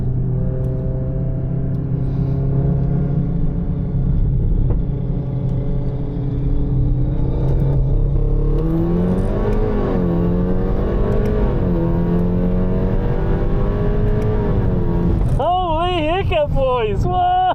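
Engines roar loudly as a Beast35 GTR races a stage 2+ tuned Audi RS3, a steady low drone with harmonic whine that rises and shifts around mid-run, ending in a sharp wavering climb.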